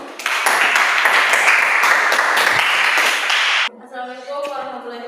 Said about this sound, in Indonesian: ini aplaus untuk kelompok 2